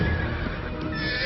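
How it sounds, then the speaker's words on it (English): Horses neighing at a stable in a scene from Once Upon a Time, a loud sustained whinny over dense dramatic background sound, brief and close. "Horses are freaking."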